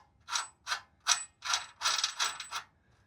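A nut and washer are tightened onto a Ford Ranger mount with a ratchet, giving about seven quick, close clicking bursts in an even rhythm before stopping.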